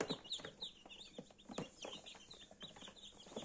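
Many small incubator-hatched chicks peep and cheep close by, a dense, busy chorus of high, overlapping calls.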